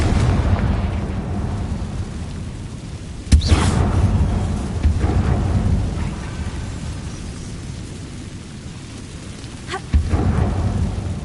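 Confringo fire-spell blasts in a Harry Potter video game played on PS4: two sudden, heavy booming explosions a few seconds apart, each rolling off into a rumbling, stormy background roar.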